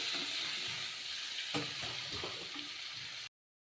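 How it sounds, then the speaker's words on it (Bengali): Potatoes and bottle gourd pieces stir-fry in a pan for a vegetarian gourd curry: a continuous moderate sizzle with a sharp clatter of the spatula midway and a few softer scrapes before it cuts off abruptly. "এবার কেটে রাখা লাউগুলো দিয়ে দিচ্ছি এবার আবার তিন চার মিনিট ভালোভাবে কষিয়ে নেব"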